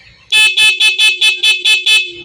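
Dual contact horn on a Euro Griffin 180 FI motorcycle, eight short loud honks in a quick even rhythm, close and alone.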